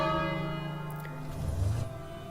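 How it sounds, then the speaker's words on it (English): A large bell in the King's Quest adventure game tolls once, a deep resonant church-like clang with a long, slowly fading ring and sustained overtones. "Let me ring this bell first."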